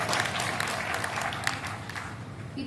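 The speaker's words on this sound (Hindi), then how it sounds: "एक बार तालियां बजाइए" An audience applauds at a Hindi poetry recital (kavi sammelan), a brisk, crackling burst of many hands clapping that carries through and thins at the very end as a voice begins.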